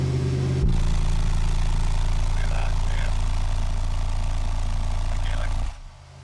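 Car engine running steadily at raised revs around 2,000 RPM, a loud continuous drone held for several seconds before dropping back toward idle at the end.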